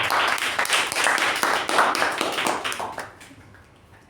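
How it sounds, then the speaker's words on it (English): An audience at a Toastmasters meeting claps for a speaker, a dense, even round of applause that holds for about three seconds and then tapers away. "a big round of applause to Toastmaster Rachana."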